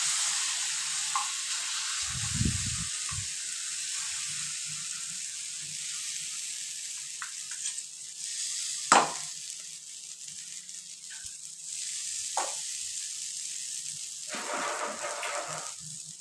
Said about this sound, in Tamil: இதில் பெருங்காயமும் கடுகும் போட்டு தாளிச்சு வச்சுருக்கேன்